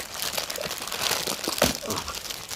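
A cargo package with plastic wrapping is torn open by hand, with loud close crinkling, rustling and sharp crunchy rips in irregular bursts.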